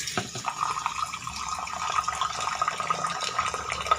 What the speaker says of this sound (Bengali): একটা জল পড়তেছে।